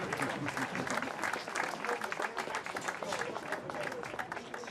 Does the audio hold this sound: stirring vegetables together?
no